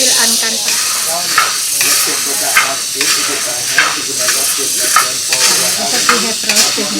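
Luwak coffee beans are roasted and stirred in a pan with a loud, continuous dry sizzling hiss, broken by rhythmic scraping strokes about once a second, close up, with people talking faintly underneath.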